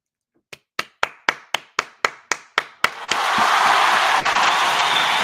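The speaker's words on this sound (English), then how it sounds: "Round of applause." A round of applause begins as a slow series of about ten single, evenly spaced sharp claps close by, then swells into dense, loud, continuous clapping.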